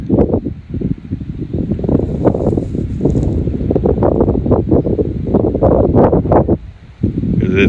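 Strong gusty wind buffets the microphone outdoors during a DJI Mavic Mini drone range test, with loud, uneven low rumbling bursts that surge and fade repeatedly before a brief lull near the end.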